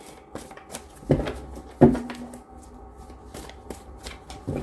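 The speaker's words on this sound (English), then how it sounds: "One more shuffle, and then I will take the 10 cards on top." Cards being shuffled up close, a series of crisp riffling bursts and soft taps repeating at an uneven rhythm.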